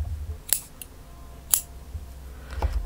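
Scissors snip white yarn during crocheting: two sharp, close cuts about a second apart, followed by a softer rustle near the end in a quiet room.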